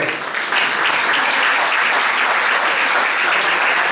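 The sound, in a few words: strong applause in church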